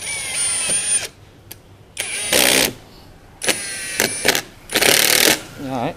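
A power drill drives short screws into thick steel sheet in several loud whirring bursts with brief pauses between them, the motor revving and the bit grinding and ratcheting against the metal close up.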